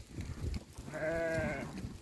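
A sheep from a flock of pregnant ewes offered for sale bleats once with a wavering, nasal call in the middle, set against low rumbling background noise.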